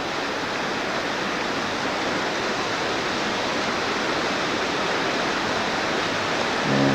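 Creek water rushes steadily down moss-covered rocks and under a bridge in Glacier National Park, a dense, even roar that stays constant throughout with no voices.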